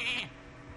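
A short goat bleat from the Hearthstone card game, a single bright nasal cry that trails off quickly and is heard alone.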